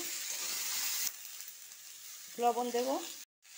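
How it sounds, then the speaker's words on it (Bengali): Potatoes fry with tomato and a five-spice and dried chilli tempering, giving a faint, steady sizzle that drops away partway, followed by a brief tonal sound and a cut to silence. "টমেটো ভাজা হয়ে গেছে, আলু দিয়ে দেব।"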